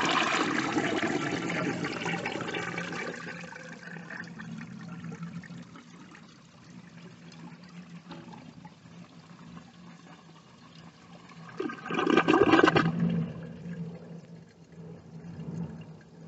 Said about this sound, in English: I'll begin with a dry bowl flush.